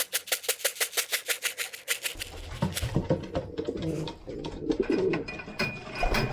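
Racing pigeons coo and flutter at a loft, with a steady rhythmic series of pulses at first, then a busier mix of soft calls and wing and foot noises close by.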